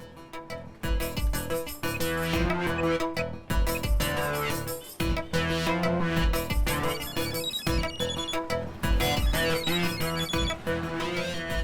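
A mobile phone plays a loud melodic ringtone that repeats steadily for about ten seconds, with no one speaking.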